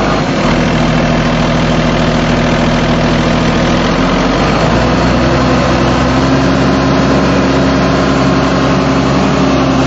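Caterpillar 320CU excavator engine running loud and steady at raised RPM, a dense continuous diesel drone with a slight pitch shift midway, close up with no talk.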